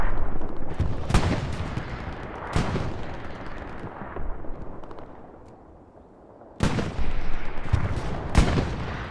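Artillery fire landing in the Hell Let Loose video game on the Utah Beach map, heavy booming blasts with rumbling decay, a loud cluster early, a lull, then more impacts close together.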